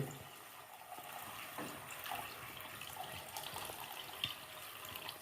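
Tamarind water pours steadily into onion theeyal curry in a soft, faint trickle with light splashing, quiet and continuous with no talking.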